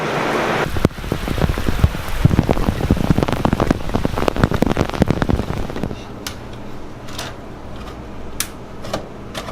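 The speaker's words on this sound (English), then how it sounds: "It's pouring down raining, cats and dogs." Heavy rain pounds a hard surface in a dense, loud patter, thinning later to scattered drips and taps.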